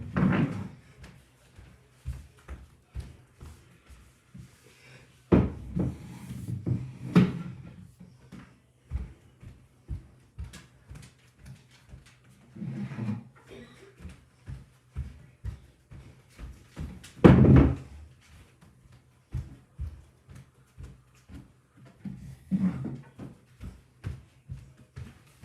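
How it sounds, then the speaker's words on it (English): Chairs and a table being moved and put away around a house: scattered knocks, scrapes and thuds of furniture, irregular and close, with quiet pauses between the clunks. "let me put away all the chairs."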